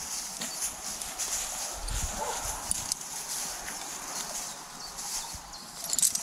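Horses for sale on a Ukrainian farm, hooves clopping at an irregular walking pace amid outdoor rustle and a dog's bark, with distant faint voices.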